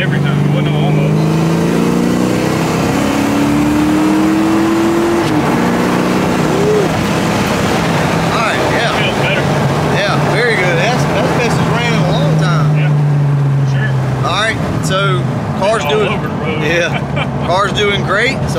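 A Ford Mustang 5.0 engine revs hard at wide open throttle, loud and close, its pitch rising and falling over and over under steady engine roar while people talk.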